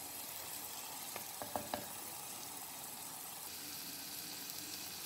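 Prawns fry in a clay pot, a steady sizzling hiss throughout with a few light scraping or stirring taps near the start, close and fairly quiet, no one talking.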